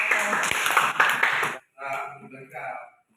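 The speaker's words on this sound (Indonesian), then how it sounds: "berikan tepuk tangan" Students in a teacher-training classroom clap together in a dense burst of applause for about a second and a half, which stops abruptly before a few people start talking.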